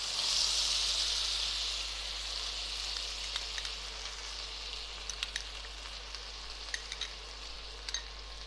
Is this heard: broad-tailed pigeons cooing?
no